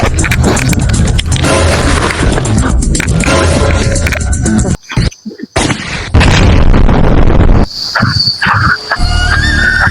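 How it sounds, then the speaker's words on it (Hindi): Loud bomb explosions with heavy booms and chaotic bursts, a short sharp gap, then renewed blasts and squealing noise close by, with no speech. "अभी उसके ऊपर बम गिरा"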